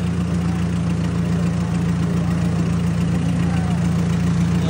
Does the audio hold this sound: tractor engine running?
yes